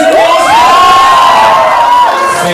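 An audience cheers loudly at a live Q&A event, a dense wall of shrieks and high whoops sustained across the whole moment, close and intense.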